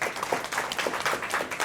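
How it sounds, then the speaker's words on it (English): An audience at a Service Lab ethical design talk applauds after a presentation, a dense, steady round of clapping that holds for the whole moment, close and fairly loud with no other sounds standing out. "absolutely massive round of applause for you guys"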